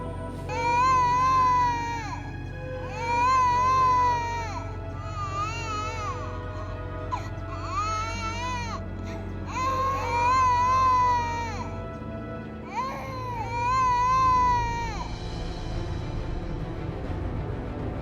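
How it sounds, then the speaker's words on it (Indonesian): A baby cries in wailing bursts, five long cries separated by short gaps, loud and close over a steady low background. "Kok aku seperti mendengar suara bayi nangis ya?"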